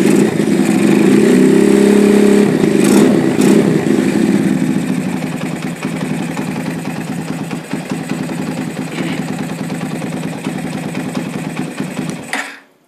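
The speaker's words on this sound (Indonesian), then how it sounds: "Jadi sekitaran ini nih motornya lamsam." A classic motorcycle engine idles at about 1500 to 1800 rpm, a steady close chugging hum that revs briefly and then settles lower before cutting off at the end.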